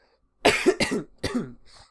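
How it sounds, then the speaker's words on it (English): A short burst of three or four harsh, close coughs in quick succession, then silence. "I apologize for all my coughing"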